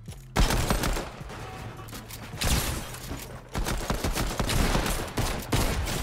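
A pistol fires repeatedly in a Fortnite match, sharp loud shots coming in quick rapid bursts with brief pauses, layered over busy game sounds and no talking.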